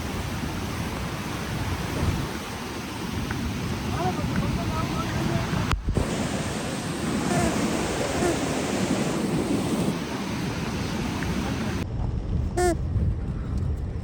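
Loud, continuous roar of rushing cloudburst flood water flowing over a bridge in Himachal, steady and turbulent, with brief wind buffeting on the microphone.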